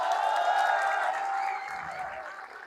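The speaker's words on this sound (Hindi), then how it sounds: "लक्ष्मीचंद जी के लिए जोरदार तालियां" An audience at a live comedy show breaks into loud applause, dense clapping mixed with a few cheers, fading slightly toward the end.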